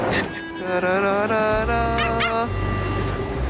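A small dog yips and whimpers close by in a quick run of high, whiny barks, with voices and background noise underneath.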